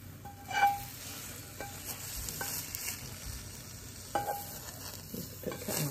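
Wilted spinach cooking in a frying pan, with a quiet, constant sizzle and a handful of light stirring clinks and scrapes from a utensil against the pan, near and without voices.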